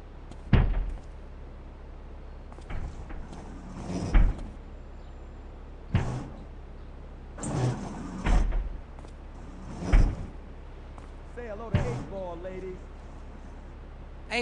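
In the video game GTA 3, a service door opens and shuts with several scattered thuds and clacks spread across the stretch, close and moderately loud, alongside brief game sounds.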